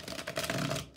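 Oracle cards being shuffled by hand make a quick, close, papery riffling rustle that lasts about a second and then trails off.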